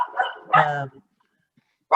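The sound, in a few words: dog barking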